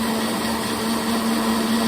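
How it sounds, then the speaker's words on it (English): A blender cup whirs steadily while blending a drink, a loud continuous motor drone with a strong hum, heard alone and close for about two seconds. "I just pop it in my blender cup for literally like 2 seconds."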